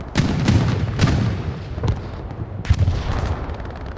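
Explosions and gunfire in the Hell Let Loose video game: a continuous rumble of distant booms and bursts of shots, with several sharper blasts standing out from the dense battle din.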